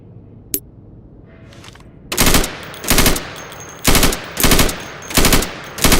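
Bursts of primary-weapon fire from the video game Insurgency during solo training, shooting targets through plywood: five loud, close automatic volleys after a brief single crack, each lasting about half a second with short gaps between.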